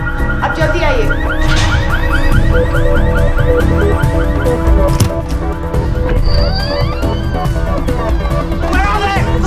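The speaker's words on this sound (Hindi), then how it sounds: "वो गाड़ी का अलार्म बज रहा है।" A green Volkswagen's car alarm wails in a repeating rising-and-falling pattern alongside a higher electronic tone, loud and continuous under background commotion and voices.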